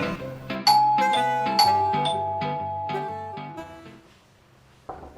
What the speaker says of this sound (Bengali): calling bell চাপছি